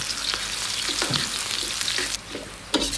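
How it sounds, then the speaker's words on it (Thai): Loud, steady sizzling of garlic frying in hot oil in a pan, with occasional stirring scrapes and crackles, no voices. "ตั้งกระทะใส่น้ำมันลงไปนำกระเทียมไปเจียวให้เหลือง"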